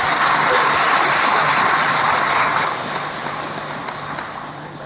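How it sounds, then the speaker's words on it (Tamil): Audience at a business conclave in Coimbatore applauding, a loud dense wash of clapping that holds steady and then eases slightly toward the end while still going. "மக்கள் எல்லோரும் ஒரு நல்ல ஒரு பலத்தை கைத்தட்டல் ஒரு வாட்டி ஜோரா கொடுங்க பார்ப்போம்"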